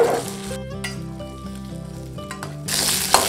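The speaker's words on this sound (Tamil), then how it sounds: "வெங்காயம் நல்லா வதங்கட்டுங்க." Onions sautéing in a pan for a home-style garlic kuzhambu: a hissing sizzle loudest at the start and end, partly masked by background music in the middle, with no talking.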